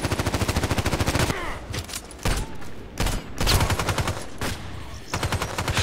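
Rapid automatic bursts from an OTs-33 Pernach pistol in the shooter Contract Wars, a fast run of close, loud shots that breaks into scattered single and clustered shots, then resumes as a steady stream.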